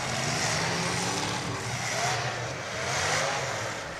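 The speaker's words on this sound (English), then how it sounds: "Oh, somebody's revving up." A derby car engine revs at a demolition derby, a broad steady roar rising and falling in two swells, held continuously without a break and with no voices over it.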